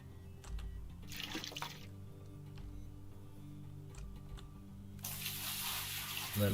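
Water running in the Gold Rush video game, gold-mining wash plant, begins as faint clicks and ticking over a low hum, then a broad rushing hiss of flowing water swells up near the end and stays steady.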